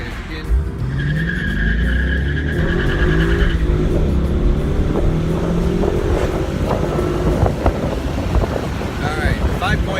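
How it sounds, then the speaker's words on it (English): A 2016 Ford Mustang GT Convertible launches from 0 to 60 in Kauai with a hard, rising engine roar and tire squeal. Wind buffets the open cabin throughout the run. "we're going to see if we can do a quick 0 to 60 test"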